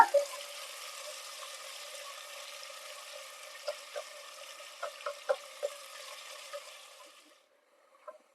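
Sliced onions sizzle steadily in hot oil for Vaniyambadi chicken biryani, a continuous broad hiss with occasional sharp pops and crackles, close and fairly quiet, fading out near the end.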